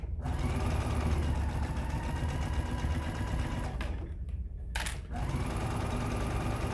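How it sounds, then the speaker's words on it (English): A sewing machine runs continuously around the edge of a Japanese knot bag, a close, steady, dense mechanical hum with a brief break near the end. "I'm just sewing all the way around."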